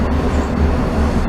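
A passing train roars steadily nearby, a dense continuous rumble with rhythmic rolling undertones and no voices.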